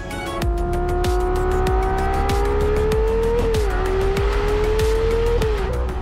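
A Ferrari Daytona SP3 with a V12, one of a 599-unit run, revs hard and close, its engine pitch climbing steadily and then dropping sharply with gear changes, under a constant roar.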